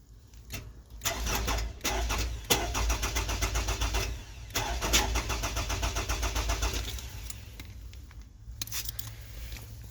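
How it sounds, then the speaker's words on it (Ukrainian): A Toyota RAV4 engine cranks repeatedly in rapid whirring bursts, pausing between attempts, then catches and settles into a low idle rumble. "І заводимо автомобіль."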